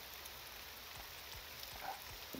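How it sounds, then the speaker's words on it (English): Steady rain falls in the fantasy role-playing game Morrowind, heard as a soft, even hiss of drops with faint low patters throughout, quiet and unbroken. "The rain."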